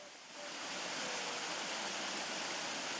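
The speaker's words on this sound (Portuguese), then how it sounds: "6 delas desaguam aqui, nessa cachoeira." A waterfall fed by springs on a farm property pours steadily, a dense even rush of falling water close by with no other sounds.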